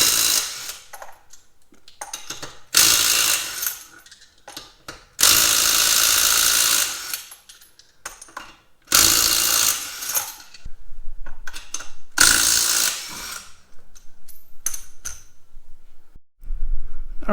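Ratchet and mechanical tool noise while the wheels come off a 2011 Hyundai Elantra, loud clicking bursts alternating with pauses and rattles of metal parts, no talking.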